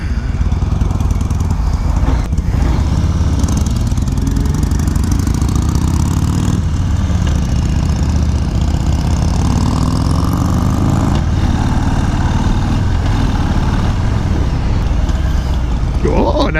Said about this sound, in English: Oh, that's a nice tractor.